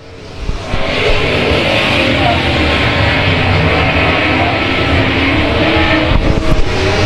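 Race cars on the final lap of a circuit race make a loud, continuous engine roar that holds steady throughout, with no voices.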